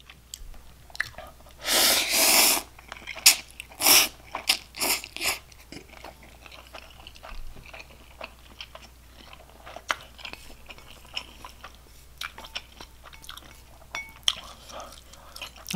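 Close, crisp bites and wet chewing of cheesy Samyang instant ramen noodles, with a loud burst of crunchy bites early on, then quieter irregular chewing and smacking, close to the mic with no talking.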